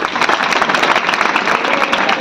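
A dense burst of audience applause at a village devotional gathering held for a teacher's birth-centenary celebration, many hands clapping loudly and steadily throughout with no one speaking over it.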